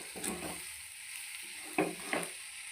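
Pasta with coriander is stirred in a pan, a soft low scraping with a faint sizzle and a couple of brief clinks, quiet and close.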